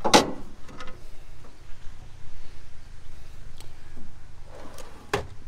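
Drawer in the bait board of a custom Frewza F18 boat sliding open or shut, a few short knocks and rubbing scrapes at the start and again near the end, fairly close, with no voices.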